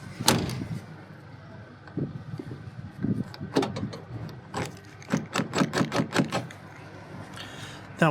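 A classic Porsche door lock worked by hand gives close, sharp mechanical clicks and clunks: a few scattered knocks early on, then a quick run of crisp clicks.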